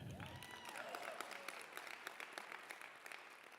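An audience claps through the whole stretch at a talk on the climate fight, with steady applause that is moderately distant and fairly quiet. A speaker's voice carries over it at the start.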